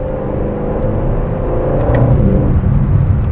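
A 2024 Aston Martin DB12 engine blipping as the quick-shifting transmission downshifts, a loud, close rumble that swells in revs across a few seconds with no talk.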